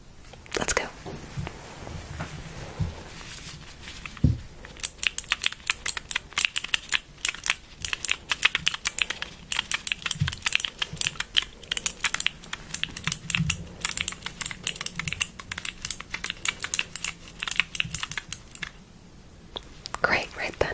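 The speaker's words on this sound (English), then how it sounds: "I have this little keyboard here, a small one." Rapid, uneven clatter of keys on a small keyboard, tapped in dense bursts for most of the stretch, close and crisp with soft breathy whispering near the start.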